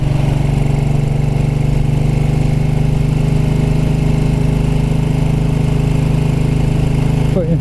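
A 1929 Ariel motorcycle engine chugs steadily at around 30 mph in third gear, a continuous loud low throb on a country lane with no pauses.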